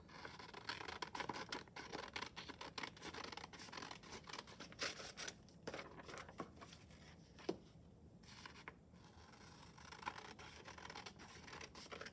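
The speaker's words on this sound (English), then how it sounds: "When you're done coloring, you're going to cut it out on the black lines." Scissors cut a coloring page out along its black lines, a continuous run of quiet snipping and paper rustling with irregular scrapes, faint and close with no talk.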